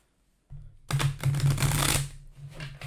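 A deck of cards is riffled and shuffled, a quick dense flurry of papery flicks, close and clear, with a faint low hum underneath.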